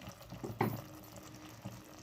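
Water from a mixer jar pours briefly into a pan of tomato curry with a short splash, then a quiet trickle and faint kitchen clatter.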